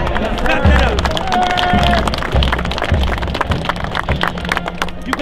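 A football team claps together after winning a district championship game, with dense, cracking claps and a few heavier thumps, loud and close, while voices and shouting carry underneath.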